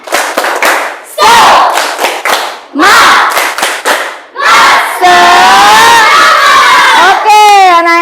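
Schoolchildren in a class chant loudly in rhythm while clapping sharply in short bursts between the shouted phrases, ending in a long sustained cheer from the whole group.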